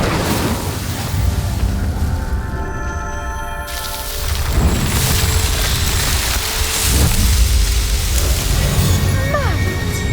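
Incendio fire spell cast in Hogwarts Legacy, igniting a row of pyres: loud, continuous crackling, roaring flame noise with whooshing bursts swelling midway, set over layered game music and ambience.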